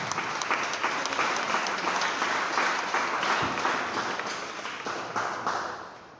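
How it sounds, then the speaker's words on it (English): An audience at a leadership academy dialogue in a room gives thunderous applause, a dense, sustained clapping that tapers off toward the end. "I request we give God a thunderous hand clap."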